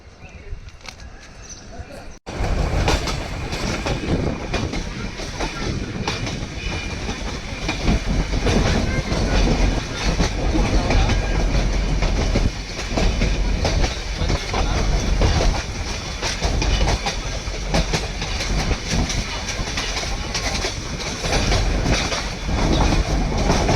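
The Ooty mountain railway train rolls along with loud, continuous rumbling and clattering wheels and occasional squeals, heard from on board after a quieter opening moment.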